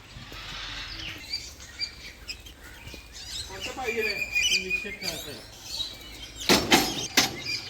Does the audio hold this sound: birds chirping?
yes